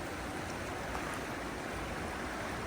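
Steady, full rush of a fast-flowing stream swollen high after rain near Valdez, Alaska, a dense continuous broadband roar with no voices.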